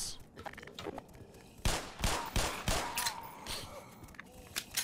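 Gunfire in Black Mesa, a few loud bursts close together in the middle of the clip with clattering around them, set against a busy background of game noise.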